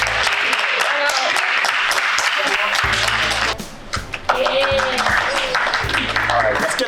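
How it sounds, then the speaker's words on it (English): Audience clapping at a college student life event, scattered and moderately loud, heard under and between talk and shouting voices, with a short dip partway through. "Round of applause, guys."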